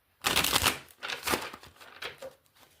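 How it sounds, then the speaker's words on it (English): Close, crisp riffling bursts of a tarot deck being shuffled, a few rapid flurries with short pauses between them. "One more shuffle."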